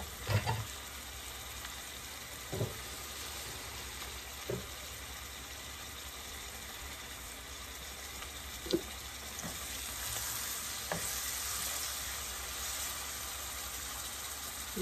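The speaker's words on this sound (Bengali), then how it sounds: "এখানে আমার মশলাটা কষা গেছে" Ground spices, coriander, cumin and chili powder, fry gently in a pan, a soft continuous sizzle broken by occasional sharp clicks and scrapes of a spoon against the pan.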